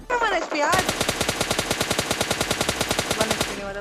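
Rapid automatic gunfire from a gun in a video game shooter, a loud steady burst of around twenty-five evenly spaced shots after a short opening whoosh.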